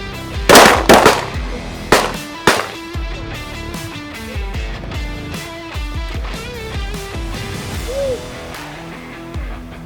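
Shotgun blasts during a waterfowl hunt: a few loud, close reports early on, followed by fainter shots and other outdoor noise, with a brief voice in the background.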